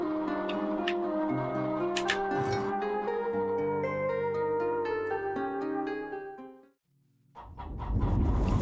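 Chickens cluck in the video game Undead Horde, over a dense layer of game music and effects for most of the stretch, then a short near-silent gap before loud noisy game sound returns.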